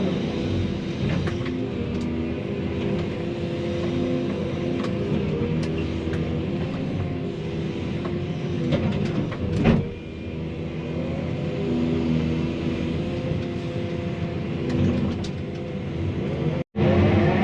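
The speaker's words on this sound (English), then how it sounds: "just going to use the excavator and pick through all the stumps that Robert has taken up this morning" An excavator engine runs on a work site while stumps are being cleared, giving a steady, close, droning rumble with a few bumps and clanks and no talking.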